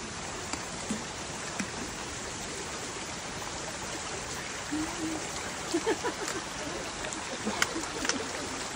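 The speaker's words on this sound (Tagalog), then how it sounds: "Ilog na maliliit." Continuous rushing water from a small mountain stream on Mt. Cagua fills the background, with faint splashes and scattered light knocks over the steady flow.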